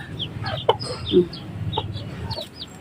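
Silkie chickens and chicks cluck and peep softly while pecking at pechay greens, several short close clucks and chirps over a low background murmur.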